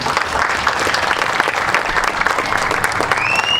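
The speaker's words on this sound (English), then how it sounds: "So if we could just give her a round of applause." An audience at an end-of-year gathering breaks into full applause, a thick, continuous roar of clapping hands that stays loud and even throughout, with no voices over it.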